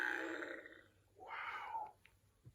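A voice imitates a Triceratops dinosaur grunt with two rough, throaty grunts, the second longer and rising, fairly faint and close.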